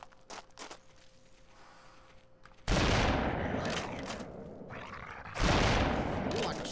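Loud rifle shots in the hunting game Cabela's Alaskan Adventures set in southeastern Alaska, two heavy blasts a few seconds apart, each followed by a long rolling echo, after a quiet stretch of faint footsteps.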